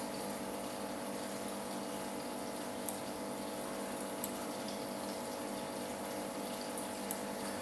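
Steady broadband rush of water flowing in an aerated fish pond, continuous and even with a pump-like hum beneath, a few faint splashes or clicks breaking through.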